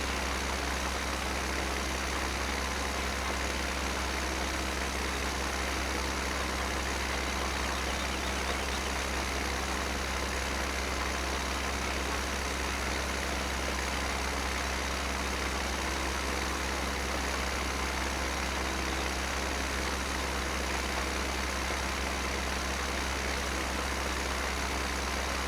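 An articulated tractor engine in Farming Simulator 17, planting with a Case IH Cyclo planter, runs in a continuous steady drone with a low hum throughout, unchanging and without talk.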